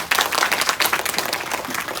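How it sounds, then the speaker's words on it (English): An audience claps for the host institute at an innovation and startup awareness session, a dense, steady round of many hands at close range throughout. "A huge applause for all of the institute for hosting it."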